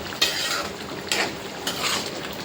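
A spoon stirs drumstick thokku in a pot, three quick scraping clinks against the metal over a soft cooking sizzle.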